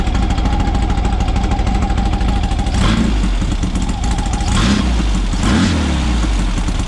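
Car engine revving hard during maintenance while gushing oil, a loud continuous mechanical roar with two sharp throttle surges partway through, close to the engine with no talk.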